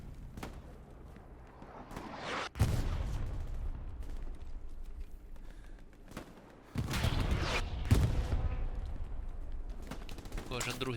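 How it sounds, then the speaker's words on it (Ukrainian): Artillery fire and gunshots in the video game Hell Let Loose: sharp, heavy booms and bursts of firing stand out against a rumbling battlefield background, with a voice speaking at times. "А арта долбить сюди"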